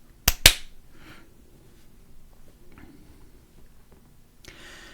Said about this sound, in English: So I'm going to do a little clap thing